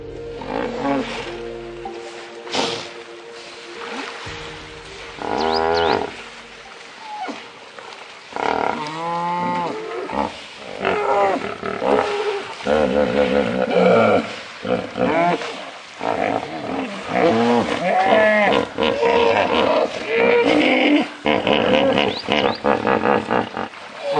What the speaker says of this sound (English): That sound of a hippo cracks me up